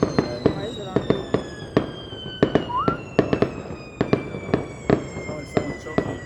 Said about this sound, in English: It's a crazy type of firework.